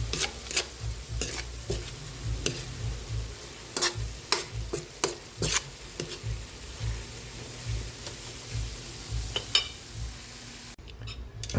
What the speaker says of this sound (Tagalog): Nag-isa na po yung ating giniling.